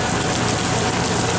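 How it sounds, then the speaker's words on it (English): A sprinkler producing fake rain at Universal Studios Hollywood, a dense, steady, loud hiss of falling water that stays constant throughout, with no voices. "Yeah, that's called a sprinkler."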